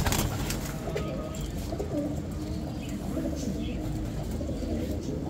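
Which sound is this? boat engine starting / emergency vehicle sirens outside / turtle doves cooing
turtle doves cooing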